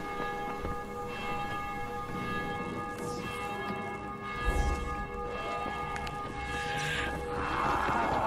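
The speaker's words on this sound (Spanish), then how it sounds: "¿Qué son las campanadas que están sonando, tío?" Church bells ringing in the video game Dying Light, a series of resonant tolls under steady ambient game noise and a low rumble, with no talk.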